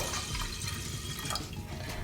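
Water runs steadily into a pressure cooker vessel holding washed moong dal, a continuous splashing pour with a hissy wash that stays even throughout, with no voices.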